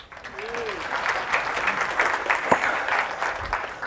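An audience at a tech talk on developing Windows Azure applications with Visual Studio breaks into steady applause of moderate loudness, many hands clapping together for a few seconds.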